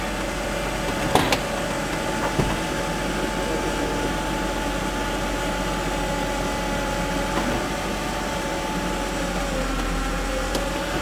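A 1989 Mercedes 300E engine idles with a steady low rumble throughout and a constant hum, broken by a couple of faint clicks and knocks.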